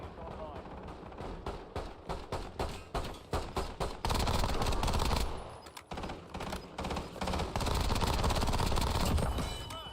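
Warzone battle royale gunfire crackles in quick repeated bursts, then swells into dense, sustained automatic fire near and loud, with a brief lull midway and someone talking underneath.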